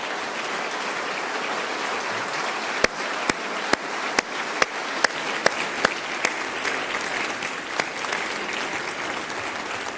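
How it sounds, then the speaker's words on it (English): An audience in a state legislative chamber applauds steadily and evenly for about ten seconds, a dense rain-like patter of many hands with a few sharper claps standing out, no voices on top. "let's give her and John a round of applause"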